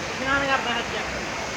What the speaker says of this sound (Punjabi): ਝਰਨੇ ਦਾ ਪਾਣੀ ਆ ਓਏ